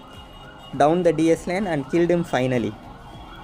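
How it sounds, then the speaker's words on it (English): An ambulance siren wails outside near a hospital in repeated rising and falling sweeps, faint and distant, beneath someone talking close up. "Sorry for the ambulance noise in the background."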